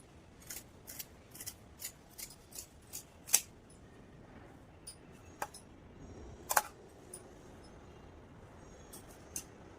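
Scissors cutting a round shape in blouse fabric, a run of crisp snips in an uneven rhythm with a few sharper, louder clips, close and otherwise quiet.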